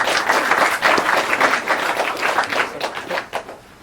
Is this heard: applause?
yes